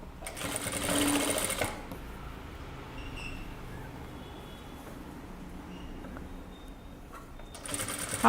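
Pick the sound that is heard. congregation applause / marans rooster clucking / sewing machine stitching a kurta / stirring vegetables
sewing machine stitching a kurta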